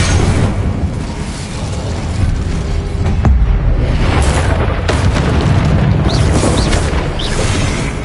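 An Incendio fire spell bursts in the Hogwarts Legacy video game, a loud roaring blast of fiery rumble sustained across the whole stretch, with sharp cracks near the middle.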